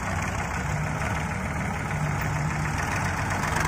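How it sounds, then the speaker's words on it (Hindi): Tractor engine driving a mounted JCB-style soil loader runs steadily at a constant, slightly knocking idle, loud and close, with no voices. "आगे वाला जो ट्रैक्टर है जो इस पे चल रहा मशीन पे"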